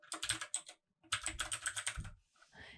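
Quick bursts of computer keyboard typing, close and clear, in two runs of rapid keystrokes separated by a brief pause, ending with a softer trailing rustle.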